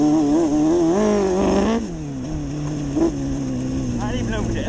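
A Honda CBR DRZ 600 motocross hybrid motorcycle engine running with a misfire, its revving tone rising and falling close by, with one brief stutter partway through.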